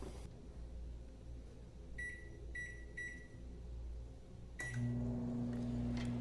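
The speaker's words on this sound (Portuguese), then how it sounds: "Micro-ondas começou a funcionar." A microwave oven under repair: three quick keypad beeps, one more beep, then the magnetron hums loudly and steadily, over a faint background drone.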